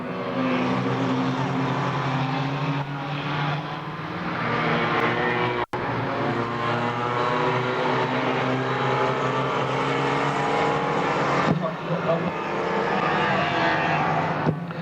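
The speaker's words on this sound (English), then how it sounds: "We've got 3 cars in a scrap for the lead on race 1 over here this afternoon" Several race cars battling for the lead on a raceway track, a sustained loud roar of engines with shifting pitch as they pass, continuous and near.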